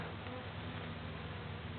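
A dense, steady buzzing of many honeybees close by at a hive frame, a continuous low drone without pauses.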